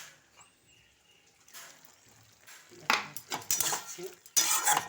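Poppy seeds being stirred in a pan, giving scraping utensil strokes and clinks that start faintly and turn louder and denser toward the end.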